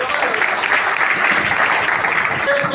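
An audience at a business presentation applauds warmly, a thick, continuous patter of many hands clapping at once, loud and steady throughout.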